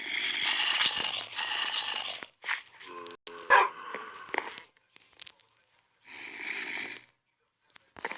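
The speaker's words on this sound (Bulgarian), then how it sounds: "Кучето ми издава много страшни звуци и понякога ме плаши." A pet dog indoors makes scary, rough snorting and growling noises in uneven bursts separated by short silences, fairly close and loud.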